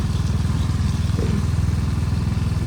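A motorcycle rides on a muddy road in the rain between Mandi and Rewalsar, its engine putting out a steady low, pulsing thrum at an even pace with no talk over it.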